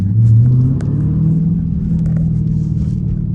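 A Dodge Challenger SRT 392 muscle car with a manual gearbox rumbles close by, its low pitch rising and dropping as it revs through a gear change, then settling into a steady growl.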